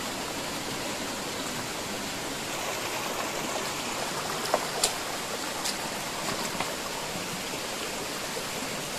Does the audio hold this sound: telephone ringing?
no